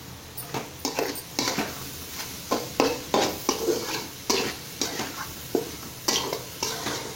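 Metal spoon stirring cauliflower chilli rice with chilli powder, curry masala and salt in a pan, giving repeated close scraping clinks and soft sizzle in an uneven rhythm, with no talking.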